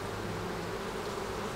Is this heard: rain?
no